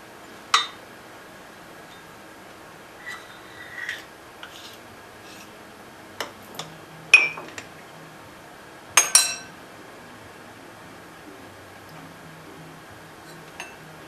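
Almond butter stirred in a freshly opened jar with its oil risen to the top: scattered clinks and light scrapes of a utensil against the jar, a few sharp taps spread across a quiet kitchen background.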